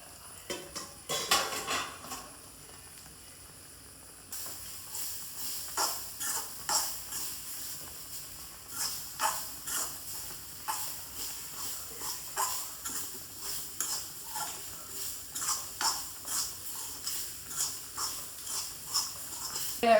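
Half a grated coconut roasts in a pan on the stove, a soft hiss under rhythmic scraping strokes of a spoon against the metal pan, close and steady, no talk.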